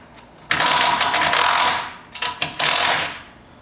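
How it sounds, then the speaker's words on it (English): A wrench loosening the bottom bolts on truck deck rail angle brackets: a long rasping ratchet run, then a few shorter ratcheting bursts, close and loud with no talking. "we'll be loosening up the bottom hardware of these rail angle brackets so we can slide the rail capture"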